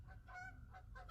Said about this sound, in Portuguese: Isso é um ganso do Canadá.